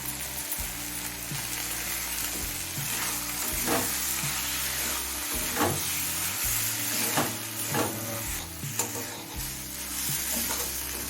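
Malabar spinach stem curry sizzles steadily in a pan over high flame, a continuous loud frying hiss with occasional stirring scrapes and clinks.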